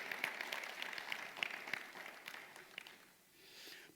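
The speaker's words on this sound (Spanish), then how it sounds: "Dale un aplauso al Rey" A church congregation at a worship service claps in faint, distant applause that thins out and fades toward the end.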